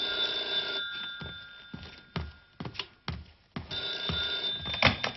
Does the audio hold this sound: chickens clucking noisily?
no